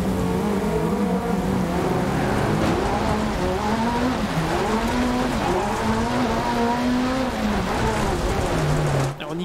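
Engine roar and tire noise from a Peugeot 205 or Ford RS200 rallycross car sliding through corners in DiRT Rally 2.0, loud and continuous, with the engine note rising and falling as it revs.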